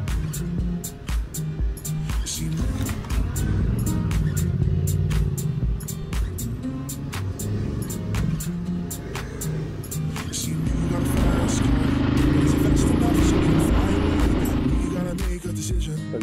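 Motorcycle engine pulling away in first gear on an off-road trail ride, a steady low engine note with rising throttle, close up under wind and rattling, accompanied by intermittent sharp clicks.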